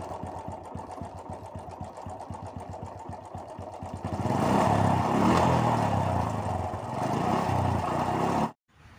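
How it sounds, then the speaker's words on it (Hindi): A Bajaj or Kawasaki Boxer motorcycle is push-started in gear without kick or self-starter. A rapid chugging turns into a louder steady engine roar, then it cuts off abruptly near the end. "जैसे ही आप झटका दीजिएगा बाइक आपकी स्टार्ट हो जाएगी।"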